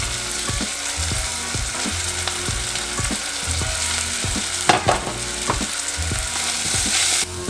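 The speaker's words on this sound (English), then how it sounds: "Give this a quick stir so it doesn't get stuck to the bottom of the pan. Now we will add some of this red paprika." Garlic and red paprika frying in a stew pan, giving a steady crackling sizzle broken by regular scraping knocks of a spoon stirring against the bottom of the pan, close and continuous.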